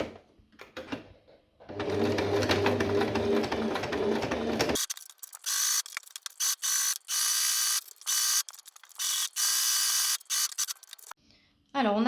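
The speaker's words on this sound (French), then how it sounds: "on peut désormais passer un point droit tout autour en laissant une ouverture." Sewing machine running a straight stitch around the edge of a fabric play mat, a steady mechanical whir lasting a few seconds, followed by clicky intermittent mechanical bursts with some quiet speech.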